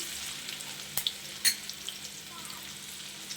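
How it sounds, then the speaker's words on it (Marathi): Finely chopped onion sautéing in oil in a pan, a soft, fairly quiet sizzle throughout with a few sharp clicks of stirring utensils, no voices. "बारीक कट कांदा घालायचा आणि एक दोन मिनटासाठी कांदा तेलामध्ये परतून घ्यायचा आहे"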